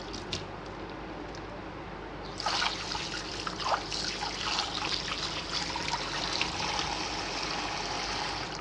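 Water drains by hand from a bowl of washed cumin seeds, a quiet start giving way to continuous close trickling and splashing that runs steadily to the end.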